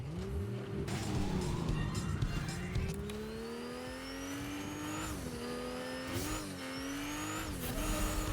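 A car driving in a video game, its engine revving and climbing through gears in rising, shifting whines, with brief tire squeals and steady road rumble and no talk.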